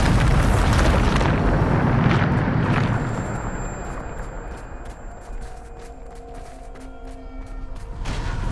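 A Bombarda spell explosion from Hogwarts Legacy erupts as a loud, broad boom that rolls on for about three seconds. It settles into a quieter crackling tail with faint ringing tones and scattered small impacts, and a second swell rises at the very end.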